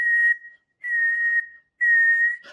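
A person whistles an imitation of the flight song of a whistling heron: three long, clear, sustained whistled notes in even rhythm, close and alone with no other sound.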